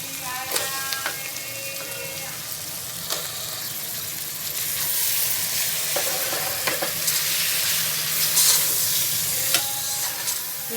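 Lamb tripe fries in a pan for a Telangana gongura curry, giving a continuous close sizzle that swells midway, punctuated by clinks and scrapes as it is stirred.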